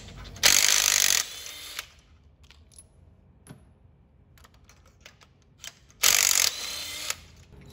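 Two loud, close bursts of rapid ratchet clicking from a five-eighths spark plug socket working on a Ford 3.5 Cyclone engine, with faint tool clinks in the quiet between.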